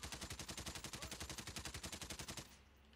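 Rapid automatic gunfire in Call of Duty Warzone, a steady burst of about thirty evenly spaced shots over two and a half seconds, then an abrupt stop leaving faint background ambience.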